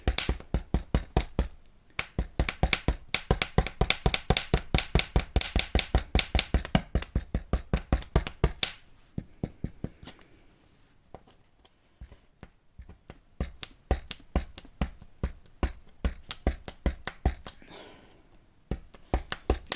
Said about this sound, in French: je vais prendre mon outil et là, je vais tapoter pour faire plein de petits trous